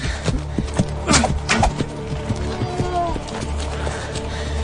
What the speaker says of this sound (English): A wounded riderless horse galloping wildly ahead, spreading alarm.